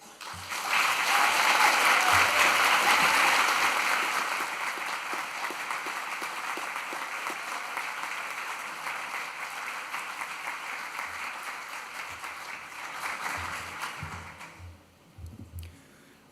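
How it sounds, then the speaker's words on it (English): Sustained applause from a graduation audience fills the hall, loudest in the first few seconds, then settling into a steady wash before thinning out near the end with a few scattered claps and faint thumps. "I invite everyone here today to join me in applause"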